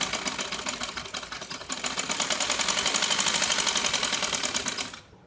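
Sewing machine stitching the hooks of a bordered salwar, running as a fast, even, loud mechanical rattle for about five seconds before cutting off abruptly.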